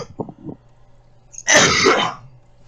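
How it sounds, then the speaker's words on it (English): A single loud, harsh cough bursts out for about half a second after a few faint vocal sounds and a quiet pause, close to the microphone. "That was the cough of all coughs"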